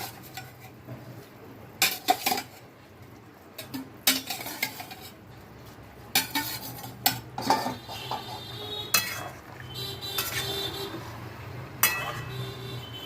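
Catla fish pieces go into a pan of potato and spices, bringing sharp bursts of frying sizzle along with clattering pan and utensil knocks, spaced a few seconds apart over a quieter hiss.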